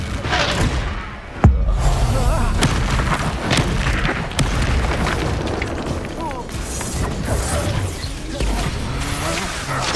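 Fiery Confringo and Reducto spell blasts from the Hogwarts Legacy video game land as a loud boom followed by dense, rumbling crashes and bursts, with a voice heard over the sustained din of combat.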